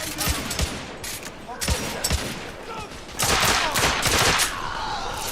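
Sustained gunfire in The Order: 1886, with rapid overlapping shots and bursts close by, swelling into a louder volley mid-way, with voices calling out amid the shooting.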